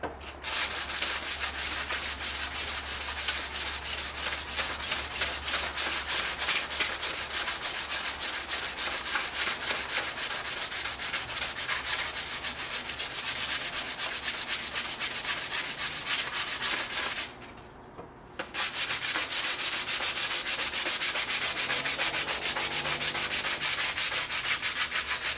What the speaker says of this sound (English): This will pick up some dust, all this sanding.